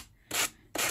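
A sanding tool rubs along the edges of a layered newspaper craft cover in two short, brisk strokes, close and dry-sounding with a quiet pause between them.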